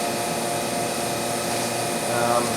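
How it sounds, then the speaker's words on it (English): A Seamtek hot air seam tape sealer runs with a steady, loud blower-like whir and constant tonal hum, unbroken from start to finish and close by. "here we're going to do a test on this hot air sealer"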